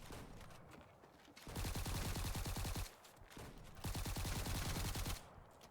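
Sniper and automatic gunfire in the video game Frontier, heard as two sustained bursts of rapid, loud shots separated by a brief lull, with no voices.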